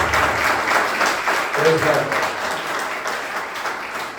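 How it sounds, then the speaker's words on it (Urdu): A church congregation gives loud, sustained applause for the ministers, a continuous dense clapping that stays strong throughout, with a voice talking over it. "زوردار تالیاں بجائیں خادموں کے لیے"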